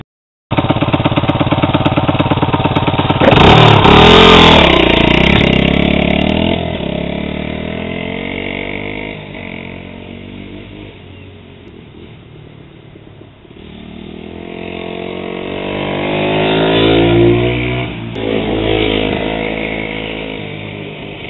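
A dirt bike or pit bike engine revs loudly on a test ride after a chain replacement, a sharp buzzing rasp that surges hard early, eases through the middle and climbs again toward the end, with no talking.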